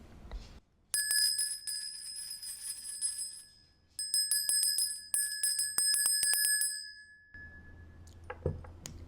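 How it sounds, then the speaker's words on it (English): A small bell rung repeatedly in a ritual to clear energy, bright sustained ringing in two bursts of rapid strikes, fairly loud and close, then fading to quiet room noise with a few soft knocks. "The bell. This might be too loud."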